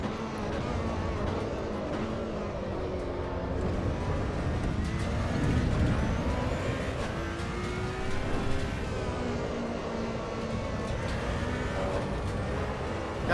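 Ferrari 488 race car engine in the racing game Assetto Corsa Evo, a steady loud drone with rising and falling revs through shifts across the lap, continuous throughout with no talking.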